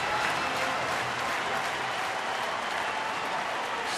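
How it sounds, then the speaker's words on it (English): Baseball crowd at Miller Park roaring and cheering loudly, a dense, continuous wash of noise from a large stadium audience with no break. "Well, now the crowd is in it."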